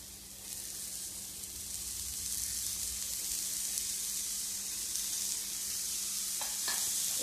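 Finely grated cabbage frying in a pan over low heat gives a steady, close sizzle that swells slightly after the start, with a few soft stirring taps near the end.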